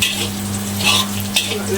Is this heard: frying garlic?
yes